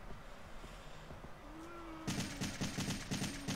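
Rapid bursts of gunfire in Resident Evil 3 start midway, loud repeated shots in a quick rhythm after a quieter stretch with a faint rising tone.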